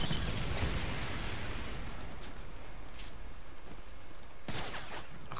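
Dense, continuous gunfire in a Modern Warfare 3 match, with rapid overlapping shots forming a loud wash. Sharper bursts stand out near the start and again toward the end. Nobody speaks.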